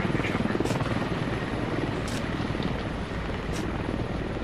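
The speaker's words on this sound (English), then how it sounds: "Yo, there is a hostile chopper right there." A hostile helicopter in the video game Squad makes a steady, heavy rotor drone that runs through the whole stretch at close range, with a low rumble under faint chatter.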